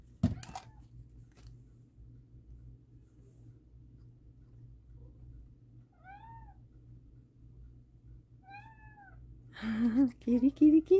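A cat gives two soft, short meows a few seconds apart in a quiet room, then a louder, drawn-out wavering meow closes the clip, with a faint click near the start.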